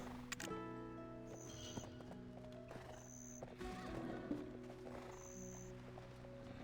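A pack donkey walks in a video game, its hooves clopping in a steady rhythm alongside harmonic game music and occasional braying whinnies.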